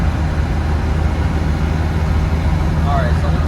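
A 1995 Land Rover Defender 110 camper conversion with a 300tdi diesel cruising on a road, heard from inside as a steady, loud low engine drone with constant road rumble and no change in pace.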